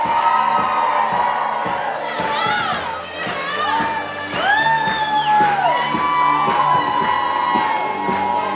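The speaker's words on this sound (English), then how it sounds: "Please put your hands together for bridesmaid Kiera Barrett" Wedding guests at a Narragansett, Rhode Island bungalow reception whoop, cheer and clap as a bridesmaid makes her entrance, with high excited shouts rising over a busy crowd and steady music underneath.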